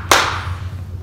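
A single sharp hand clap rings out during a kids' beginner karate class drill, followed by a faint steady background hum.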